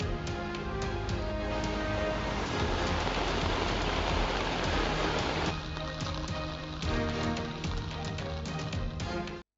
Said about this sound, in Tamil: இதனால் மழை தொடர்ந்து கொட்டி வருகிறது.